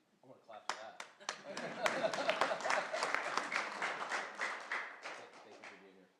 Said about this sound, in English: I want to clap for that.